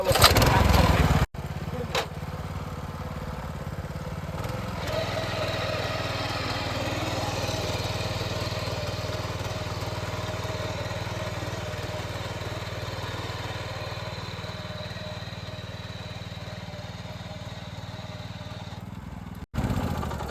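A small power weeder engine runs steadily and loudly for the whole stretch, a droning, buzzy motor with a brief drop near the start and cutoff at the end.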